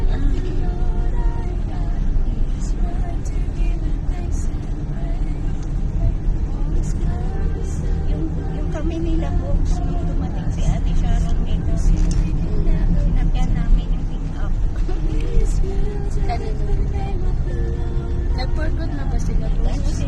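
A car in good running condition drives along a road, its steady engine and road rumble continuous and fairly close throughout, with people talking inside over it.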